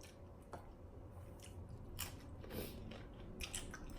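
Crispy pizza crust bitten and chewed up close, a run of short crunchy bites spread over a few seconds with quiet background and no talk.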